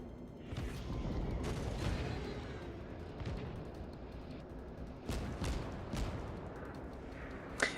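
Naval guns from Mogami and Kongo ships in World of Warships thudding in deep booms amid a constant rumbling battle bed, several heavy salvos spaced a second or so apart.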